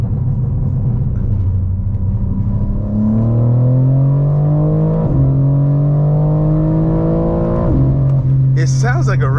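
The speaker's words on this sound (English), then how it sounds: "Oh, you can hear the burbles." A BMW M340i's loud engine rumbles and revs with harmonic tones rising and falling, then crackling, popping exhaust burbles near the end.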